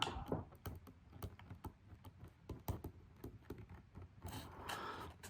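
Typing on a computer keyboard to write notes: quiet, irregular clusters of key taps clicking at close range, with short pauses between bursts and no talking.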